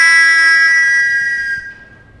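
A survival whistle blown hard in one long, loud, piercing tone that holds steady and then tapers off as the breath runs out, heard alone without speech.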